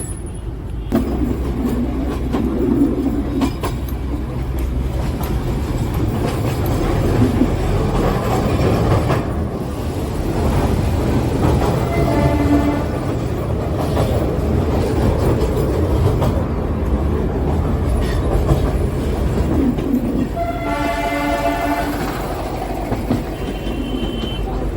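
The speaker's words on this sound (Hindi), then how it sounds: "यही है टॉय ट्रेन का मजा।" The Darjeeling Himalayan Railway toy train runs on its narrow-gauge tracks, making a steady, loud rumble of wheels and carriages that continues throughout, with occasional squeals and high metallic tones on top.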